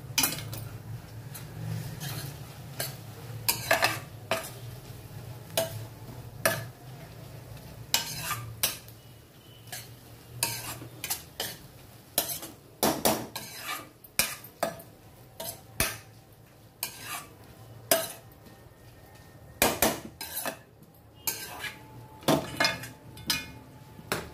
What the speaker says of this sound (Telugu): ఇప్పుడు మనం దీంట్లో అల్లం వెల్లుల్లి పేస్ట్ వేసుకొని మళ్ళీ మంచిగా కలుపుకోవాలి.